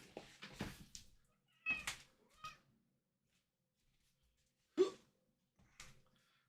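Black cat Nox meowing indoors near a cat tree, a few short separate meows spread across a mostly quiet stretch, close and clear with no talking.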